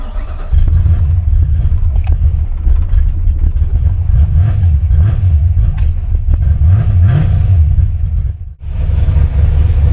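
A carbureted engine fitted with a CFI Enforcer carburetor idles with a deep, lumpy rumble and small revs, close and loud, with a brief dip near the end.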